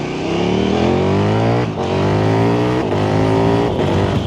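KTM Super Duke 1390 R EVO motorcycle accelerating hard, its engine note climbing steadily then dropping briefly at each quick short-shifted gear change, loud and continuous with no talking.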